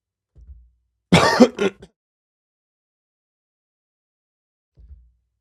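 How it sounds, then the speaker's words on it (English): A single short cough bursts out between quiet stretches, with faint low thumps before and after. "sorry, I got a cough here."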